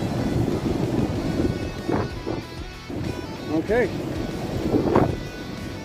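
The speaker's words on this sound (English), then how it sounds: "Sorry about that wind, it is getting crazy out." Strong wind buffets the microphone in a steady low rumble while a person speaks briefly.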